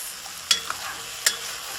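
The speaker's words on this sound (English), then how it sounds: "we're going to give that a nice mix" Squash and wild rice being stirred in a cooking pot, with two sharp utensil scrapes against the pot over a faint sizzle, no voices.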